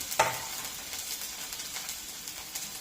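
Chopped small onions fry in a pan with a soft, steady sizzle and faint stirring, opening with a brief clatter as they go in; the sound is fairly quiet and continuous with no talk.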